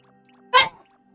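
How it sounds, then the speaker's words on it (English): A single loud, abrupt sneeze, close and sharp, with quiet before and after. "Loudest sneezes on the whole planet?"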